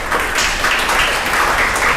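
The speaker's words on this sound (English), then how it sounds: "So give yourself a round of applause." Audience members at a sustainable development awareness talk clap for themselves, a dense, steady wash of applause lasting about two seconds.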